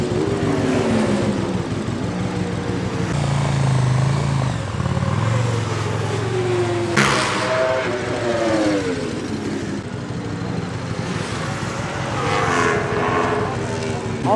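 Aprilia RSV4 superbike screaming around a race circuit at high speed, engine pitch climbing and falling through gear changes, loud and continuous with a sharp pass-by whoosh midway.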